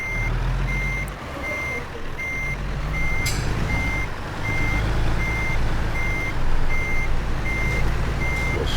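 A truck backing a trailer in American Truck Simulator sounds steady, evenly spaced reversing beeps over a loud low engine rumble, with a brief hiss partway through.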